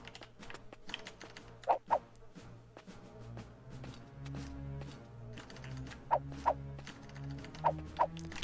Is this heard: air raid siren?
no